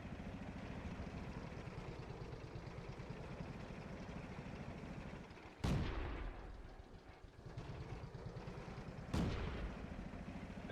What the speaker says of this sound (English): The shot sounded like it was from very close.